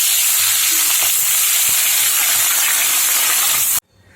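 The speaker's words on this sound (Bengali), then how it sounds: "এবার মাছগুলো আমি ভেজে নেব।" Khaira fish frying in hot white oil in a pan, a loud, close, continuous sizzle and hiss with a few faint clicks, cutting off abruptly just before the end.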